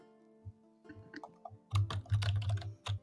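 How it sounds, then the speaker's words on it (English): Keys tapped on a computer keyboard, a few scattered clicks at first, then a quicker burst of typing, close to the microphone in an otherwise quiet room. "all we hear is your typing"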